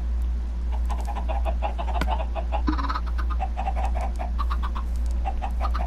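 Minecraft chickens cluck in a game, a steady run of short, clipped clucks repeating over a constant low hum, fairly loud and close with no voices.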